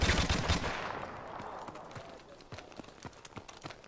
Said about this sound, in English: I was already shooting him.